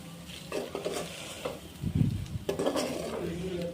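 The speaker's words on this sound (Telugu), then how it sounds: "నిదానంగా కలుపుకోండి." A spoon scrapes and knocks as boiled egg pieces are stirred gently through masala in a pan, with a light sizzle of oil under the clatter.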